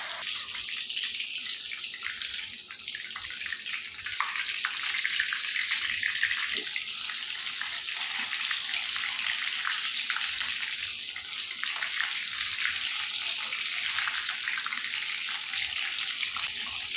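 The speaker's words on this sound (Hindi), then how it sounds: "ये देखिए मैं डाल चुकी हूँ चिकन इसके अंदर लेग पीस, और इसे धीमी आंच पे ही फ्राई करेंगे।" Chicken leg pieces (drumsticks) frying in a pan over a low flame, giving a steady, even hiss of sizzling oil that runs throughout without pauses, with no talk over it.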